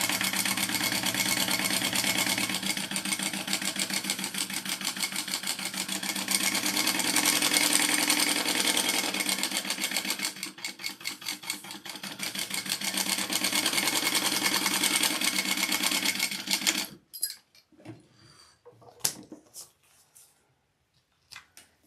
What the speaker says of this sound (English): So I'm going to just do a basting stitch around real quick.